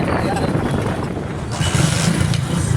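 A motorcycle engine runs close by on a ride toward the Falaknama Kalika Mata temple, a steady low rumble with a slight rise in intensity partway through, mixed with wind noise and a voice talking over it.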